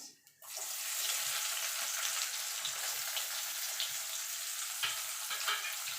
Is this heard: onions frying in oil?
yes